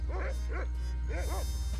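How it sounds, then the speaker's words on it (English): A dog barks in Monkey Island 2: LeChuck's Revenge Special Edition, four short, near, yelping barks in two quick pairs over a low steady background hum. "I was talking to the dog."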